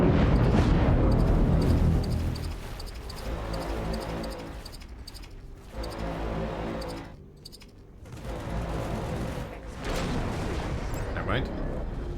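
Ship turrets firing in the space game EVE Online, a heavy barrage of booming, rumbling blasts in repeated waves with brief lulls, loud and continuous throughout.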